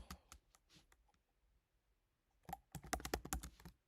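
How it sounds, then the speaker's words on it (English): Keystrokes clatter on a computer keyboard, a few scattered taps early on, then a quiet pause before a dense, rapid burst of typing, all close and fairly soft with no voices. "I'm typing it first and I'm gonna paste it."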